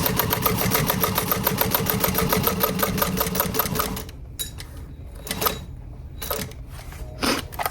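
A sewing machine runs steadily for about four seconds, rapid even stitching along a tote bag seam, then stops, leaving a few short clicks and fabric shuffles nearby.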